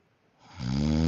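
A person snoring loudly, the sound swelling from near silence into a deep, rumbling snore that fills the second half of the brief moment, close and alone.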